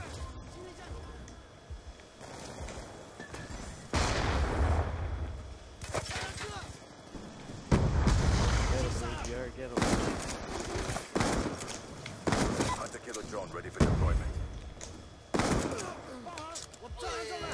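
Gunfire in Black Ops 2, bursts of rapid shots and scattered single cracks coming in uneven clusters over busy in-game noise, loud and close at times, with people talking in between.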